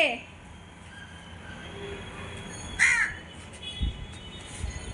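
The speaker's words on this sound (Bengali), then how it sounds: "কাক কোথায় এসেছে" A crow caws a couple of times at a distance over faint background noise and a low rumble.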